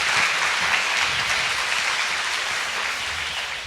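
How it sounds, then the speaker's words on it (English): An audience at an international career fair gives the speakers a final round of applause, a loud sustained wash of many clapping hands, steady and dense from start to finish. "Please give all of our speakers a big round of applause for the last time"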